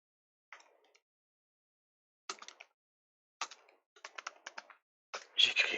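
Bursts of quick typing on a computer keyboard, soft and close, come in short separated runs of clicks with silent gaps between them and a louder flurry at the end.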